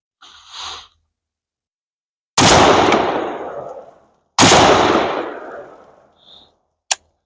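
Two loud, separate gunshots from a Draco NAK-9 pistol fired outdoors on a hillside at trash targets, each followed by a long echoing decay, then a faint sharp click near the end.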